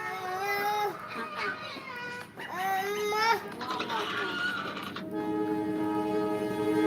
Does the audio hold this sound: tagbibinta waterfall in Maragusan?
no